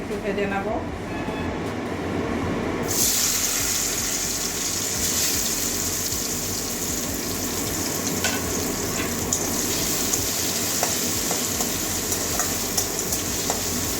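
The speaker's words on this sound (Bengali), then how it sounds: "ওই জন্য একটুখানি ভেজে নিচ্ছি উচ্ছেটা" Bitter gourd pieces fry in hot oil, giving a loud, steady sizzle that holds across the whole stretch after a brief quieter start, with occasional stirring clatter over the crackle.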